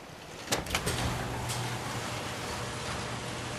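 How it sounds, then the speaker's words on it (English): A powered door slides open in Fallout 4: a few sharp mechanical clanks and thuds in quick succession, then a low steady hum carrying on beneath a quiet hiss. "We open the door."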